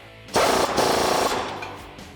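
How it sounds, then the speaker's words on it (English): A factory castle nut on the outer tie rod of a 2005-2021 Toyota Tacoma is tightened with a 19mm socket during a suspension lift install: one loud, close rattling burst lasting about a second. "Then with a 19mm socket, go ahead and tighten it down."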